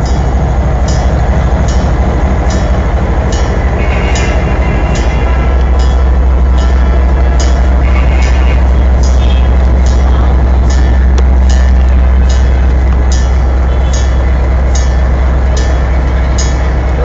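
An old, broken-down passenger train rolls along the rails with a loud, continuous rumble and a steady rhythmic clatter of wheels over track joints, close and sustained throughout.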